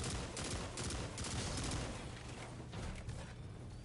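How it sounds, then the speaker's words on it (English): Rapid, continuous gunfire in a Destiny Nightfall strike, dense bursts of shots as enemies are cut down, loud and close with no pauses. "When shooting these ads, you definitely want to strafe left or right."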